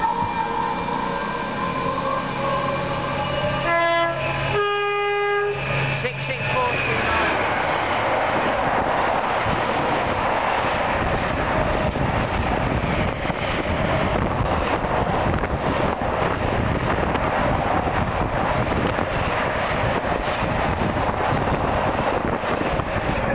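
DRS Class 66 diesel locomotive 66429 passes Tamworth hauling an intermodal freight train: a two-tone horn sounds, then the engine roars by with sustained rumbling wagon noise and heavy wind buffeting.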